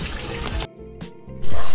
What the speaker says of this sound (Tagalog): Nililipilan natin ang tubig.